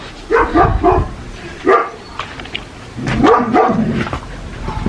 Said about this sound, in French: ça, c'est Naya qui aboie sur le chien.